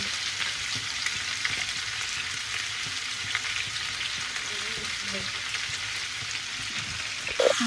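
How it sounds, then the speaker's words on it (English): Onions stew and caramelize in a pan for a saltfish dish, giving off a steady, even sizzle and frying hiss throughout, with a brief clatter near the end. "I like to caramelize my onions. So just put it all in there and let it stew."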